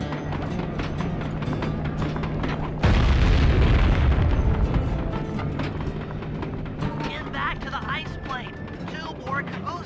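A train caboose blasted open in the Sly Cooper video game, a loud broadband boom erupting partway through and holding for about a second over a busy game soundscape, with scattered clatter and effects afterward.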